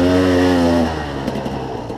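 A KTM enduro motorcycle, a 300 or 250, climbs a steep dirt hill, its engine holding a loud, close, strained buzzing tone that suddenly drops and turns rougher and choppier partway through.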